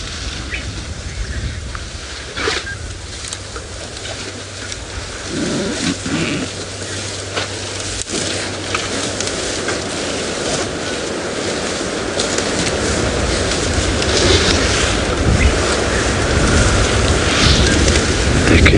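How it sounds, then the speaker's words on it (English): Steady, broad wind rush on an early-morning safari drive fills the whole stretch, growing slightly louder toward the end, with a low rumble and faint surf-like wash underneath. "It's quite a windy day"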